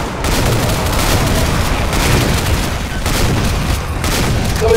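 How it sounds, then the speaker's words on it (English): Dense video game combat: a continuous, loud barrage of overlapping gunfire and booming explosions with no pauses, heavy low rumble under rapid cracks. "Somebody throw a bomb or something"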